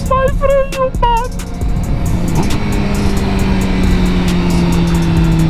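A Suzuki GSX-R750 motorcycle engine drones loud and steady after a missed gear, its pitch sliding as the revs shift, with a brief whine of tones near the start and no talk.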